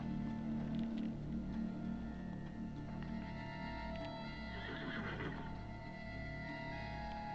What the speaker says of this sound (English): A horse with a golden unicorn on its head.